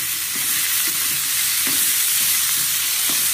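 Ingredients for jolada kadabu sizzle as they are roasted in a pan, a steady close frying hiss with soft stirring scrapes and no talking.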